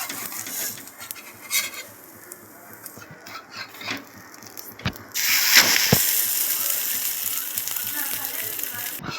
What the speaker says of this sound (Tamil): இப்போ தோசை வந்துருச்சு, திருப்பி போட்டுக்கலாம்.